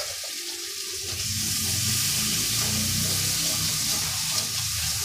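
Ground cumin, turmeric and a splash of water hit a hot pan as masala fries for chickpea dal, growing into a loud, continuous hissing sizzle close to the microphone after a quieter first second.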